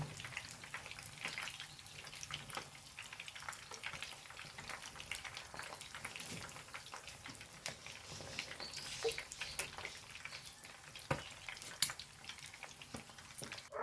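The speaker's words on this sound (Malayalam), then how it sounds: "ഇതാ ഇത് നോക്കൂ ആറ് മുട്ടയും പൊരിച്ചെടുത്തിക്കുന്നേ" Six eggs fry in hot oil in a pan, giving a steady close crackling sizzle with scattered sharp pops throughout, no voices.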